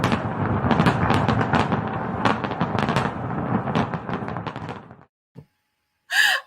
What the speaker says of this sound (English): I forgot about the fireworks